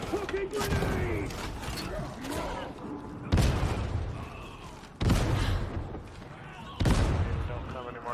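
Grenade blasts and gunfire in the Warhammer 40,000: Darktide video game, several heavy booming explosions with sudden onsets over continuous battle noise, loud and close, with voices talking over the combat.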